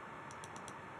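Four quick, faint key clicks in a fast even burst, a keyboard shortcut typed on a computer keyboard over low room hum.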